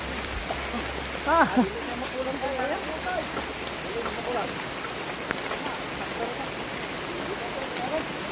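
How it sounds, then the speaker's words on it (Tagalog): Heavy rain pours steadily as a broad, constant hiss while people shelter under a tricycle, with a voice speaking briefly over the downpour near the start. "Ay, ulan. Lakas ng ulan."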